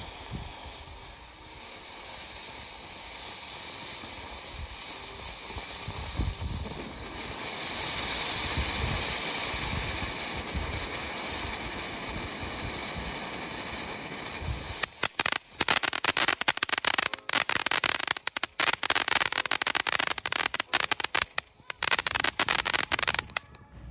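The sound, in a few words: Game Mode fountain firework by TNT Fireworks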